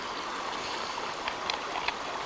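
A stream in Shenandoah flows in a soft, steady wash of water with small splashy bubbling accents, continuous and moderately distant, with no voices.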